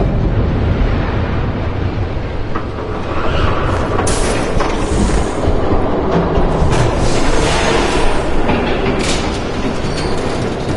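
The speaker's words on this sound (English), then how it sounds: "There's a train coming." A heavy train approaches in the Batman Telltale video game, a loud, continuous rumbling roar with rhythmic clatter that swells and holds throughout.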